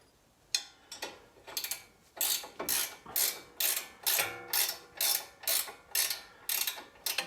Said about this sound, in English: we jack this up a little bit more so we can get the threads to bite.